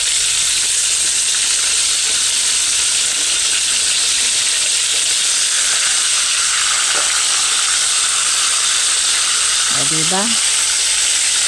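Tilapia frying in a pan of hot oil, giving a steady, loud, dense sizzle and crackle throughout, with a brief voice speaking near the end.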